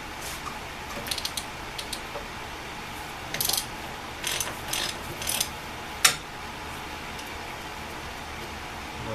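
Ratchet wrench clicking away at 5/8 nuts on a Model T Ford engine being torn down, rapid light ratcheting bursts close by in several short runs, with a small metallic clink near the end.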